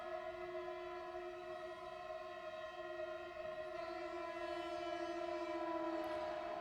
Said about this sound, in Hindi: देख रहे हो ना भाई ट्रेन की आवाज कितनी जोरदार वाली आती है।